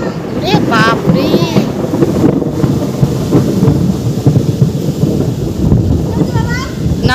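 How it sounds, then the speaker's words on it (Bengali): Thunder rumbling through a rainstorm, a loud continuous low roll with rain and wind noise, while voices talk excitedly over it. "না মেঘ ডাকছে দেখো ওই জন্য।"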